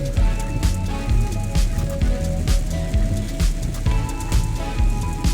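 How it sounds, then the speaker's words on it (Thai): Heavy rain pours steadily, loud and close, with dense pattering on surfaces and repeated low thumping drips throughout, with no talk. "ฝนตกเยอะขนาดเล"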